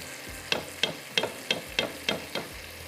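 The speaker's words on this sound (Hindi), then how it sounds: "अब ये थोड़ा सा मसाला बस भुना जा रहा है।" Spices sizzle as a tarka in a hot pan for palak paneer daal, with a spoon scraping and stirring in a steady rhythm of about seven strokes.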